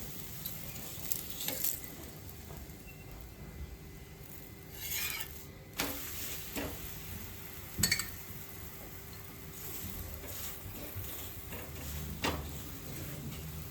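Shepu (dill) paratha roasting in ghee or oil on a hot pan, a steady soft sizzle and crackle with occasional louder sputters and scraping touches, close and fairly quiet, no talking.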